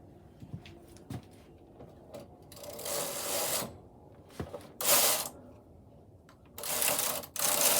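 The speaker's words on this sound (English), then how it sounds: "The actual carriage is on the left side, and so I'm going to be moving the carriage to the right side." A Knitmaster 323 knitting machine carriage slides across the needle bed in several rasping, whooshing passes, with small clicks and knocks between strokes, close and fairly quiet.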